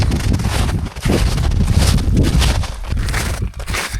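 Strong gusts buffet the microphone on an exposed mountain summit, a loud, continuous roaring rush that surges and dips over a few seconds with no voices.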